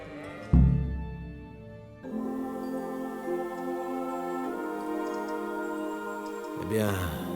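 Sheep bleat in the medieval video game Kingdom Come: Deliverance, with a loud nearby bleat and later a second one over a sustained music bed.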